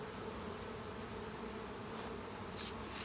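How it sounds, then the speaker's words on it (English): Honey bees buzz steadily and densely at an open hive during an inspection, a continuous close hum with no voices. "you have 8 frames of bees"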